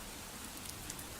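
Steady rain plays as a quiet, even background hiss with a few faint drops ticking now and then, and no voices.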